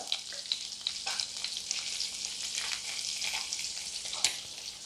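Hot mustard seed tempering with curry leaves poured into cucumber pulissery curry, a bright crackling sizzle that hisses steadily throughout with small pops and one sharper spatter near the end, close and fairly quiet.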